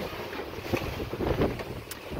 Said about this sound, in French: on a le vent qui vient là du 3/4 arrière, on a le vent large